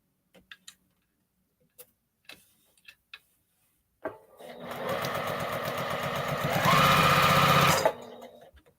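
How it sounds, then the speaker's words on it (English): A sewing machine stitches the front panels of a baby cape to the back panels, running in one loud, steady close burst of about four seconds after a few soft clicks and taps. "sew the front panels to the back panels"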